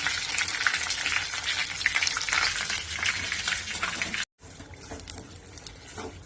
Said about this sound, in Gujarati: પછી તળવાનો ગુંદર ઘીમાં